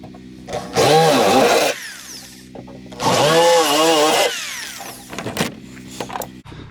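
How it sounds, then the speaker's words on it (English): A power drill whines through two bursts, each about a second long, drilling pilot holes in a thin metal ammo can, followed by some clatter and handling knocks. "Now we're going to drill our little pilot holes again."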